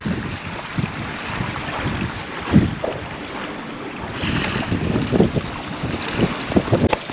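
Wind blows at a lakeside campsite. A loud, steady rush of gusts buffets the microphone throughout, with a few stronger low thumps and no talk.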